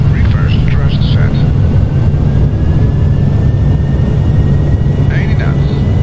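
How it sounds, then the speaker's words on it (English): Airliner applying reverse thrust on the landing rollout, a loud, steady low roar of jet engines filling the cabin, with a faint rising whine and a few brief chimes or callouts over it. "Reverse thrust set."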